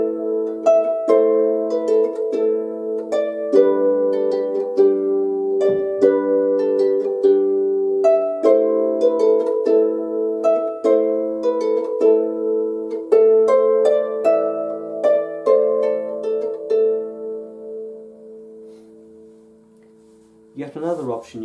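Brian Boru's March played as a plucked, harmonic tune with open fifths sounding on the downbeats, a steady melodic line of distinct notes over sustained low intervals, fading out near the end before a brief different sound.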